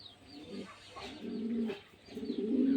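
A pair of English racing pigeons coo softly and close by in repeated low, throaty phrases, with a faint chirp now and then, and no one speaking.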